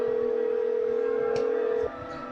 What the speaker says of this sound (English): So we need to call Tink